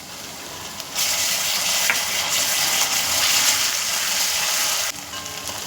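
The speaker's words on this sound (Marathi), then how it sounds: "आता याच्यामध्ये आपण आलं आणि लसूणची पेस्ट टाकूयात" Ginger-garlic paste hits browned onions in hot oil for a Malvani-style black masala chicken, setting off a sudden loud sizzle that hisses steadily for several seconds before dropping back to a softer fry.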